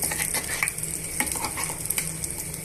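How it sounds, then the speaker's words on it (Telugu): Tomato chutney is stirred into a hot tempering of oil and spices, giving a steady close sizzle with scraping spoon strokes and small clinks throughout. "ఇప్పుడు పచ్చడిని అంతా కూడా ఈ పోపులోకి వేసుకుందాము"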